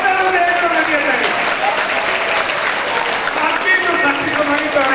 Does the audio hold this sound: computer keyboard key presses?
no